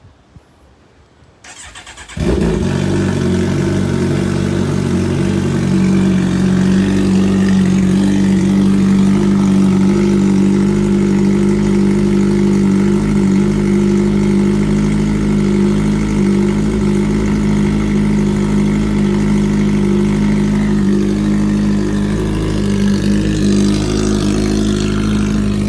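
A 2021 Kawasaki Ninja 1000SX fitted with an aftermarket exhaust starts up and settles into a loud, steady, close idle with a deep throaty rumble. It keeps running evenly, unaccompanied, for more than twenty seconds.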